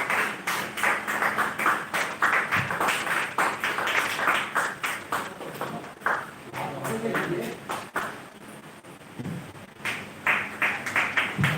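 Audience applause greets guests being garlanded at a live Awadhi cultural outreach event in Bengaluru, with steady clapping that rises and falls while voices talk over it throughout.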